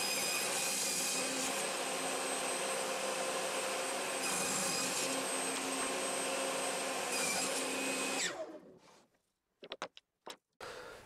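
A wooden board being sawn by hand for a homemade wooden coaster, a steady rasping stroke sound, close and loud, running continuously for about eight seconds before stopping into near silence with a few brief knocks.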